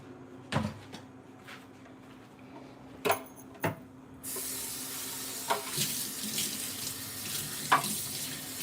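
Kitchen tap running into a sink while vegetables are rinsed for a stir fry, a steady close hiss of water starting partway through, with a few earlier knocks and clatters of handling.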